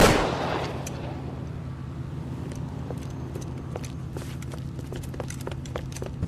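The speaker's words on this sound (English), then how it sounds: "Just quit shooting." Gunfire in L.A. Noire: a loud opening blast, then a scatter of sharp, fairly distant shots and clatter over a steady low hum.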